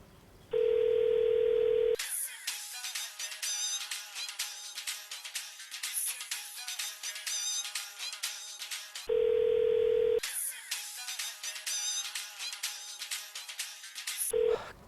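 Repeated electronic telephone tones: a steady tone, then a long stretch of ringing or signal, a pause, and the pattern again.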